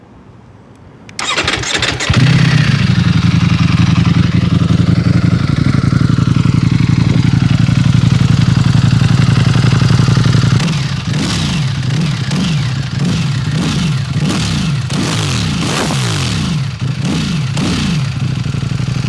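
A Ducati Panigale motorcycle with an aftermarket exhaust cranks and fires up, settles into a loud steady idle close by, then barks through a series of sharp throttle blips.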